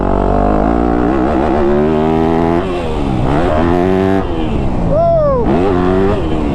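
Motocross dirt bike engine revving hard on a rutted track, pitch rising and falling through gear changes and throttle bursts, loud and close throughout with a rider's brief exclamation near the end.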